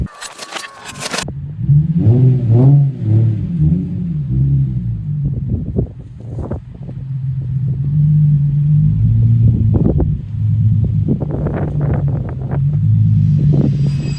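A Nissan 350Z engine cranks and catches after a jump start, then idles and revs up several times, loud and close, with some wind buffeting the microphone.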